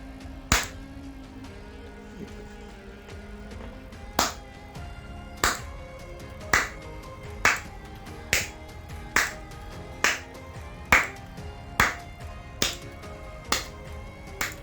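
Single crisp hand claps repeat slowly and steadily, roughly a dozen in all, each sharp and isolated over a quiet background hum.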